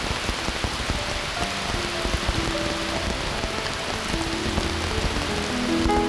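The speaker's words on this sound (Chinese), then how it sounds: "美斯乐的雨总下得很突然" Sudden rain pours steadily in Mae Salong, Thailand, a dense, even hiss of drops on surfaces that continues without a break and with no voices.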